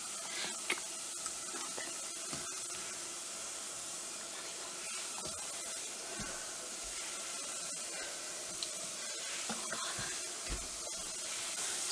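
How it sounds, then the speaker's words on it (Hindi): Cheepappam, a Kerala snack, frying in hot oil gives a steady, close sizzle and hiss that runs throughout, with a few soft clinks of stirring and no talk. "ഇതൊരു ഭാഗം ഫ്രൈ ആയി വന്നിട്ടുണ്ട് നമുക്ക് ഇത് തിരിച്ചിട്ട് കൊടുക്കാം"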